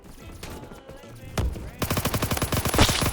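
Automatic gunfire from the Roblox game Phantom Forces in a zombie mode, with rapid bursts of shots that grow louder and denser in the second half after a few scattered single reports.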